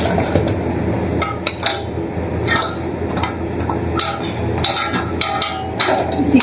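Metal pots, pans and dishes knocked and set down as they are flipped over and stacked in a home kitchen, irregular clanks and clinks scattered over several seconds with low background noise.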